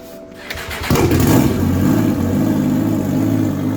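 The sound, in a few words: snowmobile engine starting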